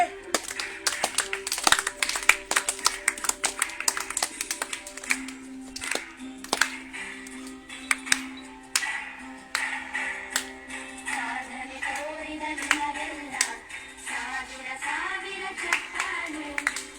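An audience clapping for a kabaddi player, with a sustained run of brisk, uneven claps from a modest group, some close and sharp, and a voice now and then under the clapping.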